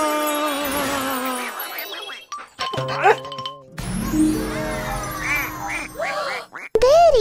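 A child imitates a duck with a run of nasal vocal quacks, loud and close, mixed with bright chiming jingles and other playful voices at a family challenge game.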